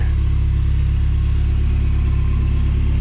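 A right-hand-drive 1999 Toyota Surf four-wheel-drive SUV with about 174,000 km idles steadily, its deep, even engine rumble close and loud throughout.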